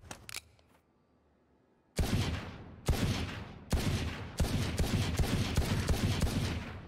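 Pistol gunfire in a video game, a Deagle-like handgun firing a rapid series of sharp, loud shots in an irregular rhythm after a quiet start with a few faint clicks.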